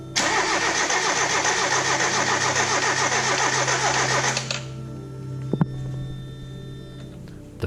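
A Mazda Miata engine with a dead fuel pump cranks hard and loud for about four and a half seconds without catching, then cuts off, leaving a faint hum and a brief clunk.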